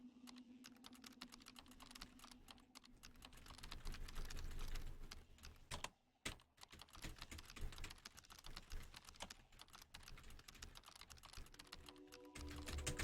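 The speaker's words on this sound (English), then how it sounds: "I'm literally pressing the same key over and over." A computer keyboard clatters steadily as the same key is struck over and over, fast dense tapping with a brief pause partway through and a faint low hum underneath.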